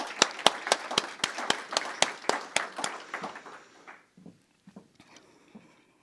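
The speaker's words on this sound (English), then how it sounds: "I want to have an applause for them." A graduation audience for new X-ray and MRI medical professionals claps in an indoor hall, a brief round of applause with sharp, evenly spaced claps that fades to a few scattered ones and then quiet.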